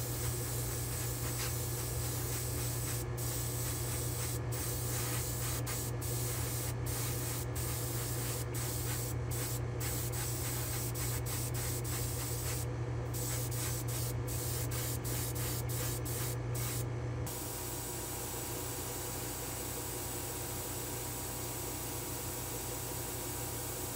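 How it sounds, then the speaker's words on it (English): Steady hissing spray of semi-gloss clear coat from a spray booth onto small vintage Matchbox die-cast car wheels, a continuous close, even spray with brief breaks, then a lower steady background hiss. "Let me head back to the spray booth and we'll try a little semi-gloss on these wheels"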